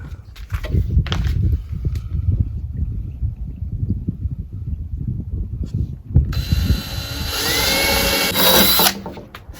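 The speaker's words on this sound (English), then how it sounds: "So that's how I'm going to start the jigsaw." A jigsaw cuts a sink hole through a countertop with a loud buzzing rasp over the last few seconds, after stretches of handling, clunks and footsteps. No one speaks.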